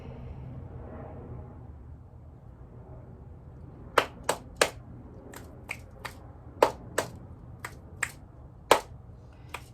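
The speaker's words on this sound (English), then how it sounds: "Checking in with my clap snaps today." Sharp finger snaps, about a dozen in an irregular rhythm, start after a few quiet seconds and stand out clearly against a low background rumble during a home fitness session.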